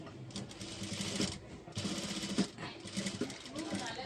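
A sewing machine stitches blouse fabric for a tissue saree, whirring in close, steady runs broken by a couple of brief pauses, with a voice talking over the machine.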